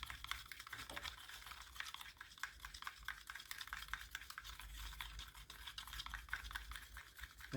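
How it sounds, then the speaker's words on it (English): Ceramic glaze is stirred in a container with a brush or stick, a steady stream of small scraping and clicking strokes with a faint background hum, no talk. "We will give it a stir."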